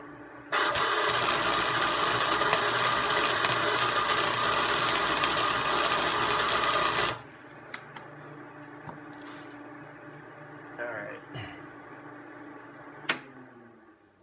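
A Harbor Freight 90 amp flux-core welder runs a single steady weld of about six seconds, a loud crackling buzz that starts abruptly and cuts off, followed by quiet shuffling and small clicks.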